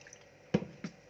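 Water splashes into a kofta mixture of meat and vinegar in two short, close, wet splats about a third of a second apart, with quiet stillness around them.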